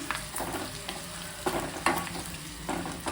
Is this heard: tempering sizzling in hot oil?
yes